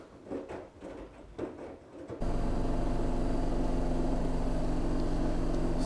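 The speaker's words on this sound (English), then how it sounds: "So we're currently in the highest spin cycle at the moment." A washing machine on its highest spin cycle at 1400 RPM, mounted on a furniture stand, kicks into a loud steady high-speed whir after a couple of seconds of quieter, uneven churning, then holds a constant droning hum.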